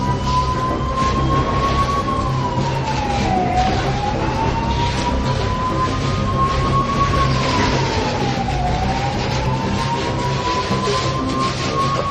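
A fire engine siren wails at a large building fire, rising and falling in slow sweeping cycles over a constant loud background roar and continuing throughout.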